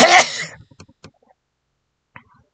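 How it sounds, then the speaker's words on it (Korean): A man breaks off mid-talk with a sudden cough and throat clearing, a loud close burst followed by a few faint short sounds and near silence. "갑자기 기침이 나와서"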